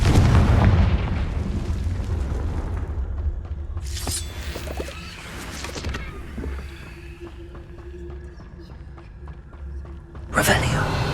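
Confringo fire spell explosions in the video game Hogwarts Legacy: a sharp, heavy burst around the middle and another near the end, over a steady rumble of game ambience.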